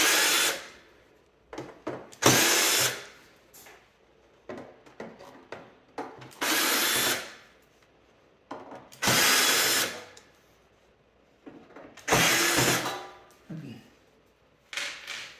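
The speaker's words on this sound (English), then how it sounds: "there looks like to be 6 screws or so, which we'll take care of for the first part of the side removal" Screws backed out of the side panel of a GE Profile Opal 2.0 ice maker with a power driver, about six loud, close whirring bursts of a second or two each, separated by quiet pauses and small handling clicks.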